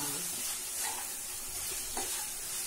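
Mutton gravy rice with mint gets stirred in a sizzling pan, with soft scraping strokes over a constant frying hiss and two brief, sharper clinks of the spoon, no voices.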